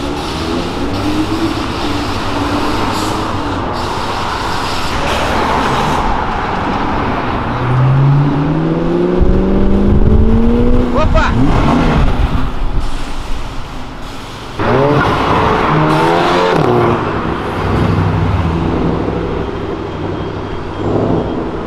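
An Audi R8 accelerates away along an avenue, its engine rising in pitch from a loud nearby roar to a fading rush as it pulls off, amid street traffic noise.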